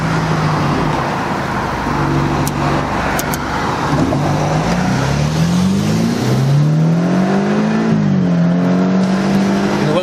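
A 2014 BMW 328i with a homemade muffler delete revs loudly and climbs through manual gear shifts, the engine note rising, dropping at each shift and rising again, continuous and close throughout.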